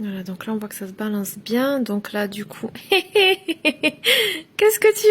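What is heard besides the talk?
No everyday noises stand out.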